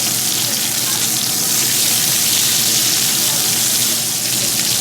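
Sirloin steak searing in a pan over high heat gives a loud, steady, hissing sizzle that fills the scene without pause, with no talk over it.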